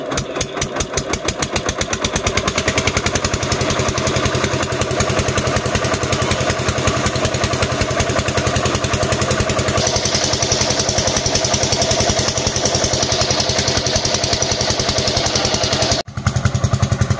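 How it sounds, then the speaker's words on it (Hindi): Farm engine in a field, running after a restart: a steady, loud, close mechanical chug with fast regular firing beats and clatter throughout, briefly dipping near the end. "तो अब चलाते हैं फिर से इंजन"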